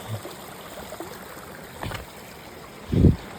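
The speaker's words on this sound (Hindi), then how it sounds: "और ये लो पानी, झरने सब पार करके जाने पड़ेंगे।" Mountain stream water flowing and splashing on the Rudranath trek in the Himalaya, a steady rushing wash with a few louder splashes, including a strong one near the end.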